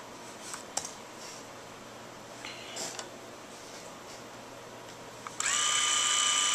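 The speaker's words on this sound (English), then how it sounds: "the shaver is turned on wirelessly without any... every time a text comes in" An electric shaver switched on by an incoming text on an iPhone 4 starts up suddenly after quiet room noise and a few small clicks, then buzzes steadily and loudly up close.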